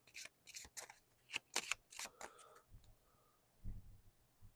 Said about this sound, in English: So we're going to take these, shuffle them back up, and Eleanor's deck is rebuilt.